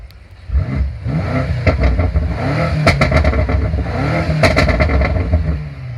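A 2019 BMW M5 Competition engine with open exhaust baffles revs hard several times, its loud exhaust growling and popping with sharp crackles between the blips.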